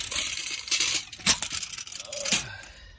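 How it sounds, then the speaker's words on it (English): A metal measuring tape is handled in an attic, making a few faint, scattered clicks and rattles, quiet and close by. "Let me try to get some measuring tape."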